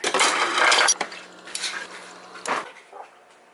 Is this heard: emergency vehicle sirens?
no